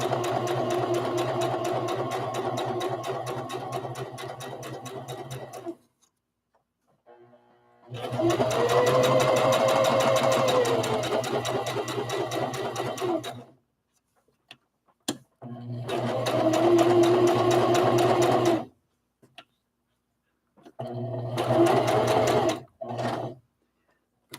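A sewing machine stitches a rag doll in four steady whirring runs of varying length, broken by brief silences and small clicks as the fabric is adjusted, close and moderately loud with no talking.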